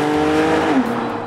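A Porsche 911 Targa 4S (991) engine revs, a brief, loud flat-six note with a tone that climbs and then drops as the revs fall, heard close and alone.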